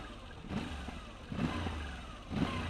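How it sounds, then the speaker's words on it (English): A 2019 Moto Guzzi V85 TT motorcycle engine is revved close up, with three throttle blips rising over a steady idle at a moderate level and no talking. "The engine sounds quite nice."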